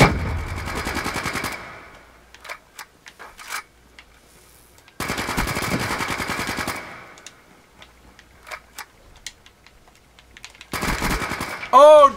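Automatic and single gunfire from an online Call of Duty Black Ops 3 match comes in three loud sustained bursts, separated by scattered isolated shots and quieter gaps, with a voice talking near the end.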